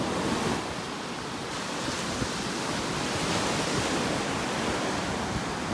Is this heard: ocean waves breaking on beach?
yes